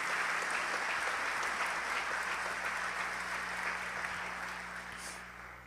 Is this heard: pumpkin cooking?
no